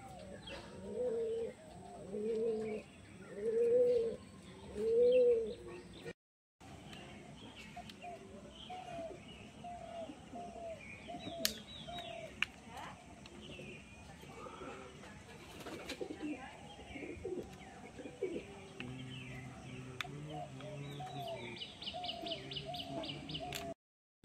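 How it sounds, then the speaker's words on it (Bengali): Pigeons on their first flight of the day, with soft cooing in bursts early on, then a steady busy backdrop of birds and wing movement, with a break partway and occasional sharp chirps. "তোমরা তো দেখতে পেলে আমাদের পায়রাগুলো কত সুন্দরভাবে উঠলো"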